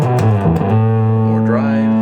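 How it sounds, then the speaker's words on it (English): Bass guitar run through a Boss GT-10B effects unit with distortion switched on, giving a thick, buzzy sustained low tone with shifting notes and a brief pitch sweep, loud and close with no talk. "You can add more distortion just with a simple switch like that."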